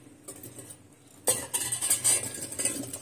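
Watermelon pieces go into a mixer jar for a milkshake: a quiet pause, then a sudden clatter of fruit and utensil against the jar, followed by a run of clinks and knocks, close by.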